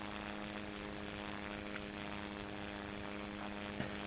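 A model airplane's propeller engine drones at full throttle through a barrel roll, giving a steady, faint buzz with a harmonic hum that holds evenly from start to end.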